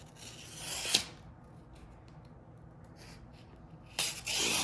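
A freshly sharpened Benchmade knife slices through paper to test its edge, giving a short crisp swish, a pause, and then a longer papery slicing sweep at the end.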